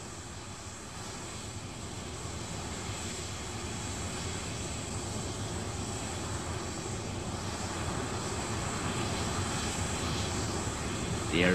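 Concorde's four reheated Olympus jet engines roar steadily at takeoff, a broad rushing rumble that slowly builds in loudness, with no talking.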